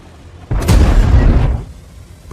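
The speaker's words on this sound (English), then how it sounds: "It opens fire at Ukrainian trenches." A Russian tank fires at Ukrainian trenches, one heavy, deep boom that swells suddenly and rolls for about a second before fading into background rumble.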